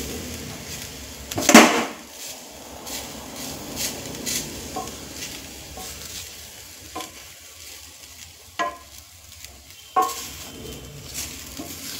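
Grated coconut roasting in a pan over low gas heat, with a faint steady dry sizzle and occasional scraping clinks as a spoon stirs it, one sharper knock early on.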